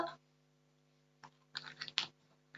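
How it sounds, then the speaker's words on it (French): Tarot cards being gathered and put away, a few soft, close clicks and shuffling taps, faint and sparse against near silence. "Le temps que je range mes cartes."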